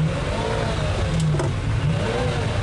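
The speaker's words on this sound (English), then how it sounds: "to listen to that V12 in the back is very special" A Ferrari Enzo's V12 engine behind the cabin gives a steady, loud low-pitched drone with slight rises in revs, heard from inside the car.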